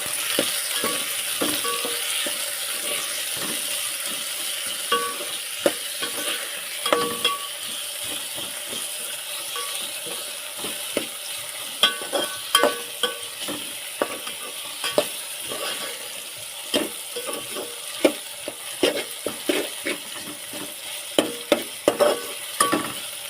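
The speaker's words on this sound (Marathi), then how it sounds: "त्याच्यामध्ये टाकून घेते परतून घेते" Cowpea pods sautéed in a pan with chili and tomato, a soft continuous sizzle with frequent clicking scrapes of a spatula stirring and turning them, close and steady with no talk.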